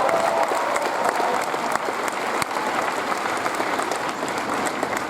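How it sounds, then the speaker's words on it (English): A high school graduation ceremony audience claps steadily and loudly, a dense wash of applause with a few sharper individual claps standing out. "Can we please have another round of applause for Juanita and Cecil?"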